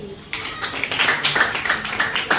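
Students clapping together in a classroom, a sudden start of brisk, fairly close applause that keeps going evenly to the end.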